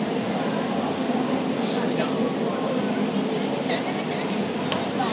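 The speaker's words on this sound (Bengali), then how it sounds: "একদম খাড়া এই ট্রেন দিয়ে আমরা উপরের দিকে উঠে যাব।" Penang Hill funicular train climbing a steep slope, a steady rumbling roll with a continuous mechanical drone throughout, moderately loud and close, with crowd murmur in the background.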